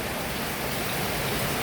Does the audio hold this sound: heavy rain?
yes